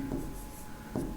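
Brief strokes of marker or chalk on a board during an electronics lecture, two short scratchy swipes about a second apart, faint and close against a quiet room hum.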